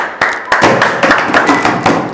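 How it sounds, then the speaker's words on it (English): Hands clap sharply at close range, several distinct, loud claps in an irregular rhythm with no talk over them. "that's what I was clapping for"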